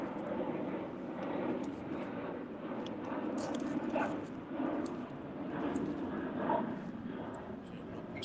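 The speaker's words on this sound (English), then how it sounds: "There's another gosh darn airplane." An airplane drones overhead, a steady broad rumble that swells slightly over several seconds, with faint clatter and scattered background sounds around it.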